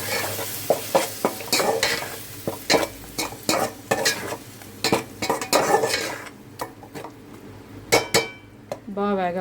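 Onion and tomato paste fries in a pan for a fish curry, a soft sizzle under repeated scraping and knocking of a spoon stirring against the pan, ending with a short voiced sound.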